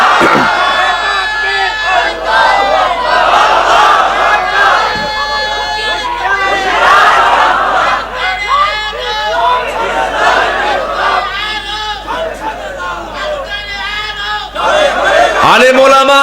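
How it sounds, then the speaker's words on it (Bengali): A large crowd at an Islamic religious gathering shouts slogans in loud, rhythmic unison, repeated chants that rise and fall over sustained noise, with a low hum underneath. "দেন স্লোগান দেন।"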